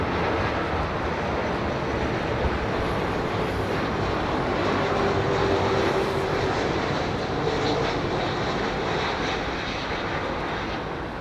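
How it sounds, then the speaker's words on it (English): A Virgin Airbus A330 airliner at London Heathrow roars steadily and loudly throughout, a broad continuous jet engine rumble with no voices over it. "Let's finish off with this Virgin 330"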